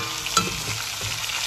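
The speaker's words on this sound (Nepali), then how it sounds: "प्याजलाई पनि एड गर्नुहोस् र यसपछि मासु एड गर्नुहोस् र मजाले पर गरेर भुट्नुहोस्" Chopped onion and lamb meat sizzle steadily in a frying pan as they are stirred, close and continuous, with one small clink early on and no talk.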